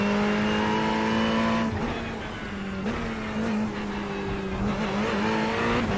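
A Ferrari 488 Evo in the iRacing game circles the Hungaroring on cold tyres, its engine holding a loud, steady drone with brief dips and upshift-like breaks before climbing again, continuous and close throughout.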